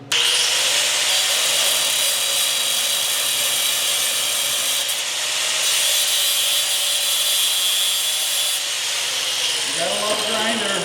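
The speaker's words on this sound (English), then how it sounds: "So I'm going to go cut this nub off." A small grinder cuts off the protruding nub of a metal pin in a barn workshop, giving a steady, loud, high-pitched grinding whine that runs almost unbroken from start to finish, then stops near the end.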